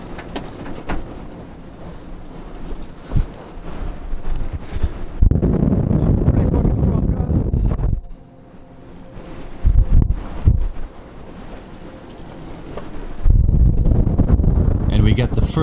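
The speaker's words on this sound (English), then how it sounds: "we are suddenly hit by the first gust that blows well over 40 knots." Strong wind gusts of over 40 knots batter a sailboat beating to windward in the North Sea, roaring and buffeting the microphone in heavy surges that build, drop away and return louder.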